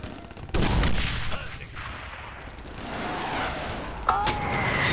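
Artillery fire in the video game Command and Conquer: a loud blast at the start followed by a rolling, rumbling barrage of explosions, with another sharp burst near the end and a high tone over the din.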